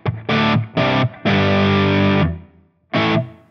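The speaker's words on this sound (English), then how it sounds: "Bring that reverb in." Distorted electric guitar chords through a Line 6 Helix Sunn-style amp model ring out in four bursts, one held longer, with a reverberant tail fading between strikes.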